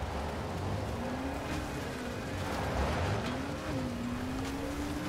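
A car driving in the video game Dying Light The Following, a continuous engine drone whose pitch rises and dips as it accelerates, steady and close.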